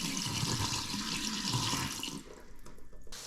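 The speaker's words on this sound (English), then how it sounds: "Then we'll empty out the water reservoir because we do want to start with fresh water." Water pouring out of a Keurig coffee maker's reservoir into a sink, a steady close splashing stream that tapers off near the end.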